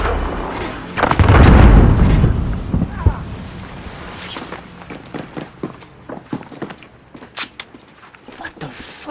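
Gunfire and explosions from Call of Duty: Warzone, with a heavy booming blast early on, followed by scattered sharp shots and impacts and footstep-like clatter; a voice shouts over the first part.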